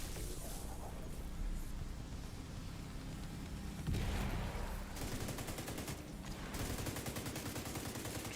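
Sustained gunfire in The Division 2: dense, crackling bursts of automatic weapons fire, overlapping rapid shots with a heavier blast near the middle, continuous and fairly close throughout with no talk.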